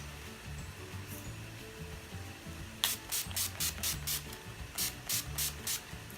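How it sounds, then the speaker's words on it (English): NYX Dewy Finish Setting Spray is misted onto a face in a string of about ten short, sharp pump sprays, close and crisp, grouped in two quick bursts over faint background music. "we're going to set our face with the NYX Dewy Finish Setting Spray"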